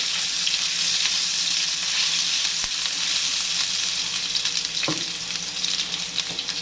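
Pork and ginger frying in a pan for kinamatisang pork, a steady loud sizzle with occasional clinks and stirring scrapes close by, no talking.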